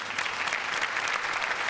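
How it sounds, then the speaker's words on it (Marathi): A studio audience at the Marathi comedy show Chala Hawa Yeu Dya breaks into loud, dense applause that stays steady and close throughout. "सर तुमचे बघा जोरदार टाळ्या सर"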